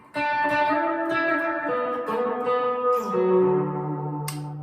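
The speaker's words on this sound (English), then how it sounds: "let's just put some reverb on." A Harley Benton SC 500 Les Paul Custom-style electric guitar plays sustained, ringing chords through reverb, loud and continuous, sliding to lower notes near the end, with no talking.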